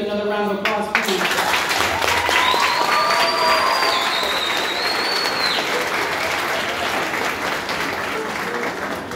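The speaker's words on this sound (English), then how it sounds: "can we give them another round of applause" A middle school audience at a National Music Honor Society induction gives a long round of dense applause with some cheering, loud and steady throughout, after a brief moment of talk at the start.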